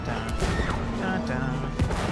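Rapid gunfire in the co-op video game It Takes Two, a dense continuous fusillade with bursts and thuds, mixed under loud game music and players talking.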